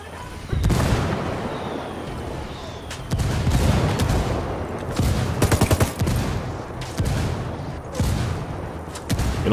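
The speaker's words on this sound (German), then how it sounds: "Hab indirektes Feuer angefordert. Achtung, da geht ein Mörser nieder" Mortar strike in Ghost Recon Wildlands: heavy booming impacts and rattling bursts of gunfire in a loud, chaotic firefight, several blasts spaced across the scene.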